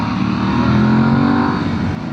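An Aprilia Tuareg 660 motorcycle engine accelerates off-road, a loud, close, continuous rising roar with a slight dip at the end and no talking.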